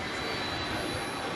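Constant broadband jet engine roar from a Qantas airliner pushing back from its gate at Terminal D of DFW Airport at night, heard steadily from a distance with no voices.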